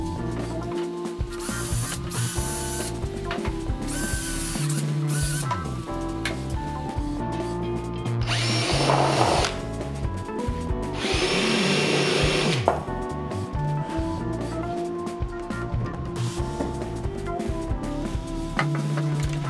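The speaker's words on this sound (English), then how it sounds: "I drilled holes through the rails and the spacers where the screws will mount them to the sides of the bench top." A drill bores holes through wooden workbench rails and spacers, giving bursts of whining motor noise between pauses and clunky handling of the wood, fairly loud and close with no talk.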